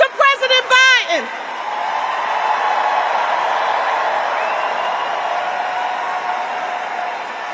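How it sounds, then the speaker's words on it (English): A large political rally crowd in Philadelphia applauds and cheers in a broad, steady wash of clapping and whoops that swells and holds, following a brief burst of amplified talk at the start. "giving a huge round of applause to President Biden"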